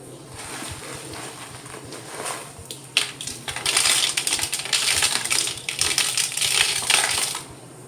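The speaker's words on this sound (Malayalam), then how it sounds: "എന്നിട്ട് ഇതിനകത്തേക്ക് കുറച്ച് കല്ലുപ്പ് ഇട്ട് കൊടുക്കാം." Coarse rock salt tumbles into a container in bursts of dense, gritty clatter and crunching, with loose rattling grains and no voices.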